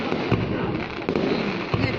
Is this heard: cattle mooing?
no